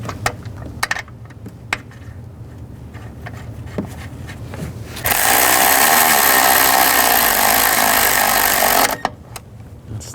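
A power tool tightens intake manifold bolts on a 2010-16 Buick LaCrosse, first some light clicks and handling of parts, then a loud steady whirring burst of about four seconds, followed by quieter clatter.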